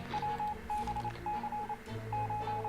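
In the video game 60 Seconds!, a sequence of short, electronic beeping tones pulses in irregular bursts as an incoming army radio transmission, fairly quiet.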